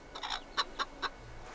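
A chicken in Fable Anniversary gives a few quick clucks, about four short faint calls in a row against quiet game ambience.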